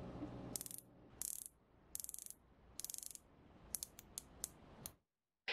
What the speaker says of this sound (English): the clicks are snappy with very little or almost no backplay